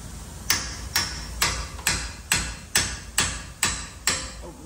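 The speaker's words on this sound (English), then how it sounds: "I'm gonna put my chisel" A hammer drives a chisel into a 2015 Volkswagen Jetta's front suspension to spread a gap at the strut and lower control arm. About nine loud, sharp metallic blows land at a steady rhythm, close up.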